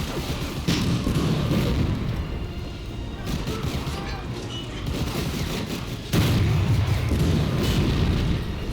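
A tank is blown up in the World War II shooter Medal of Honor Breakthrough. Heavy booming blasts land with rumbling low-end debris, one near the start, another midway and a louder one toward the end, over constant battle noise.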